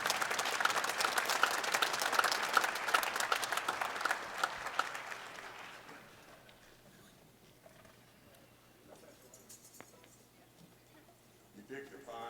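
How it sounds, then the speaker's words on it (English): Welcoming applause for a show band at an evening of country music, a loud crowd of clapping for about six seconds that quickly thins and fades into near-quiet room noise, with faint sounds returning at the end. "Let's give them a welcoming round of applause."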